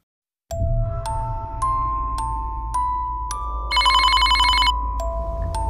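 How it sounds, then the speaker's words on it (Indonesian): A telephone rings repeatedly in Sakura School Simulator, with evenly spaced electronic ring tones and a brighter trilling burst near the end, loud and alone. "Wah, Ronald telpon."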